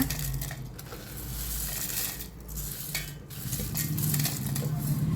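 Peanuts being lightly roasted in a hot kadai for a ready-made chutney: a dense, continuous rattle and scrape of nuts stirred against the metal pan, close and fairly loud.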